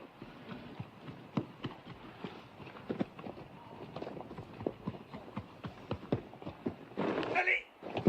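Horses' hooves clip-clopping in a French-dubbed western film, a steady, moderately close rhythm of hoofbeats continuing throughout, joined near the end by a brief burst of louder noise.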